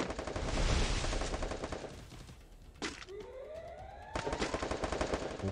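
Rapid gunfire erupts in a Free Fire Clash Squad match: dense repeated shots crackle for a couple of seconds, pause, then resume loudly, with a rising whine in between. Barely any talking.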